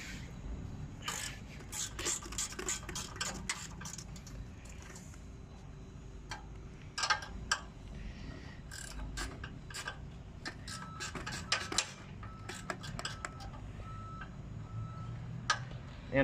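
Someone works a 10 millimeter bolt loose with a hand wrench on a Power King 14 HP chipper shredder with a Kohler Command Pro engine, giving faint, irregular ticking and rubbing clicks in bursts against a quiet background.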